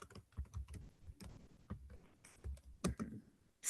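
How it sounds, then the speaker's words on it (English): Typing on a computer keyboard, close and crisp: irregular bursts of key clicks with short pauses between them. "Just go ahead and type digital literacy"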